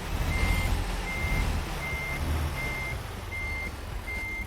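A truck's engine rumbles steadily in American Truck Simulator while reversing beeps repeat at an even pace over the low drone, with no talking.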